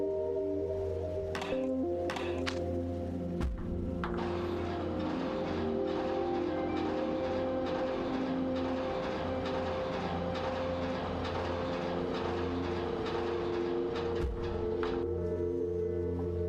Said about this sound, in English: Tramway 1 is a very convenient way to travel between all different regions of Zone 1